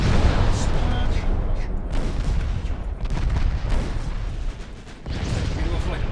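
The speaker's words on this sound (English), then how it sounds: "Torpedo hits." Dense, continuous naval gunfire and heavy torpedo impacts in the Ultimate Admiral Dreadnoughts warship battle game, a loud rolling barrage of booms that barely lets up, with a short lull near the end.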